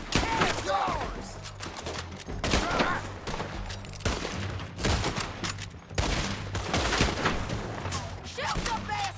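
Rapid gunfire in Red Dead Redemption 2, repeated loud sharp shots in quick clusters, near and busy throughout, with shouting voices mixed in among the bursts.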